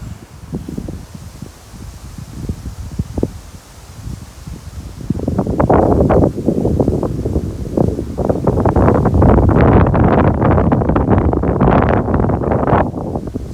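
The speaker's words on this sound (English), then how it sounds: "It's hard to say how strong the wind is. It's not a hurricane, but it is windy." Strong wind roars and buffets the microphone in rough, rising gusts, growing louder and more constant in the second half, with rustling underneath.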